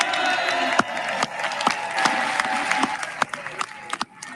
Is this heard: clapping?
yes